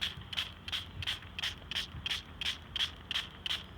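A spray bottle is pumped rapidly, giving about a dozen short, hissing spritzes in an even, quick rhythm, close up with no talking.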